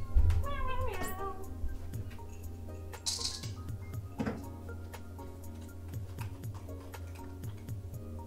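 Cassie the cat meows a few times close by, hungry before feeding, over a quiet room with scattered ticks and small clicks.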